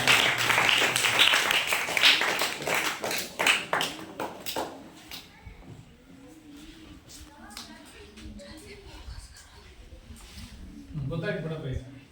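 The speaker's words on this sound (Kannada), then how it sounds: "ಅವರಿಗೆ ಚಪ್ಪಾಳೆ ತಟ್ಟೋದ್ರ ಮೂಲಕ" Schoolchildren in a classroom clap for classmates who answered correctly, a burst of quick, uneven claps close by that fades into scattered taps and a murmur of voices.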